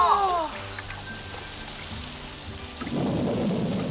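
Cartoon rain and thunder from the Simba Lion King animated series: a voice at the start, a low rumbling stretch, then a steady hiss of heavy rainfall swelling in near the end.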